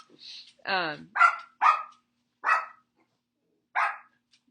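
A dog barks several times in short, sharp bursts spaced about half a second to a second apart, after a brief whine, loud and close.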